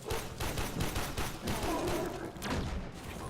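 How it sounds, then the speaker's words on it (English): Dense, rapid gunfire from the video game Warframe rattles in quick overlapping bursts and thumps, loud and continuous throughout the short stretch. "Who's shooting?"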